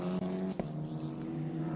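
GB4 Championship race cars with Abarth 1.4 litre engines at Snetterton sustain a steady, moderately loud engine drone with stable tonal pitch and a couple of short transient blips.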